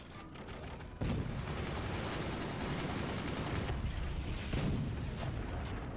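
Gunfire in the Fortnite video game: a dense, steady roar of rapid shots that jumps louder after the first second and continues without a break.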